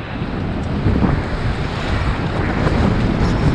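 Rafting through Ganges river rapids near Rishikesh: a loud, continuous broadband roar of rushing white water with wind-like buffeting, steady throughout with no voices.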